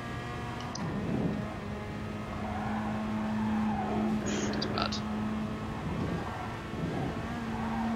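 A race car in Gran Turismo Sport driving with a steady engine drone, tires squealing and skidding through corners, with a voice talking underneath.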